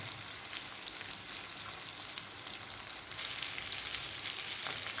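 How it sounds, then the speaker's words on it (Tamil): Sardine fish frying in a pan, a steady dense sizzle with crackling pops that grows slightly louder partway through, no voices. "நல்லா பொரியுது பொரியும் ரொம்ப வாசனையாக இருக்குது"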